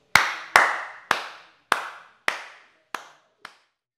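Seven single hand claps spaced about half a second apart in a highly reverberant room, each sharp crack trailing off in a long echoing decay, growing slightly fainter toward the end.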